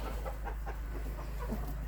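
Soft, irregular clucking from chickens, faint and somewhat distant over a steady low hum.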